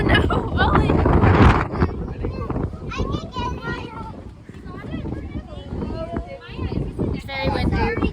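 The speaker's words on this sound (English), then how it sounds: "It's very windy." Strong wind buffets a microphone outdoors at a vineyard near Niagara, a loud rumbling gusty roar that swells and eases, while people talk over it throughout.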